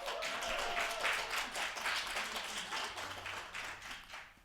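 Audience applause fills a hall at the opening welcome of the Center on Disability and Community Inclusion's 50th Anniversary Research Symposium, a steady dense wash of many hands clapping that holds fairly loud for several seconds, then starts to thin.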